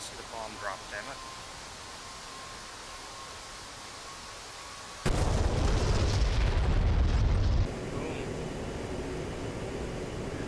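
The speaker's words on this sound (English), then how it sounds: "I just want to see the bomb drop" A heavy bomb blast from an A-10C II ground strike in a flight combat game hits abruptly mid-clip, a loud broadband boom and rumble that holds for a few seconds, then settles into steady cockpit noise.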